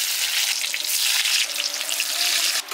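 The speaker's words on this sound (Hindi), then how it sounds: "तेल जब बढ़िया से गर्म हो तो आप प्याज को और टमाटर को फ्राई कर दें।" Onions and tomatoes frying in hot oil in a pan for a chicken gravy, giving a steady, close, hissing sizzle that holds evenly from start to end with no voices.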